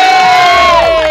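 A large crowd cheers and shouts loudly and continuously at an outdoor celebration in Diamond Harbour, West Bengal, marking a film star's 25-year milestone; the roar is brief and close.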